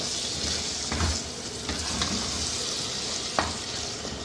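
Brain masala with garam masala roasting in a pan gives a constant close sizzle, punctuated by a few spatula scrapes and a sharper clack near the end.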